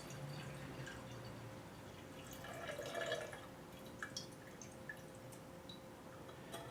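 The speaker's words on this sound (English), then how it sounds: "using a strainer, you gently pour the decoction into a mason jar" Reishi mushroom decoction poured through a strainer into a mason jar, a faint steady trickle and soft dripping that swells briefly midway, quiet and close with low background hum.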